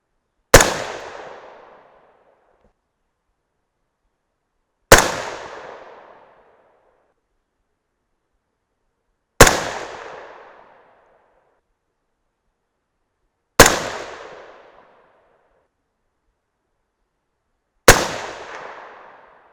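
Five sharp rifle shots from a 6.5 Grendel firing 107gr Sierra MatchKing bullets over a 32.6 grain load, spaced roughly four to five seconds apart, each a loud crack with a short decaying echo and silence between.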